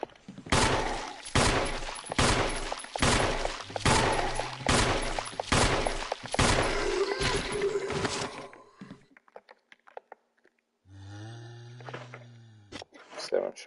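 Handgun shots in a Resident Evil remake game, about eight sharp evenly spaced reports fired in quick succession, loud and close, followed by quieter game sounds and a voice.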